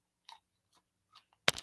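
Someone chews raw cauliflower, giving a few soft, separate crunching bites spread across a quiet moment before a louder, closer burst of crunching at the end.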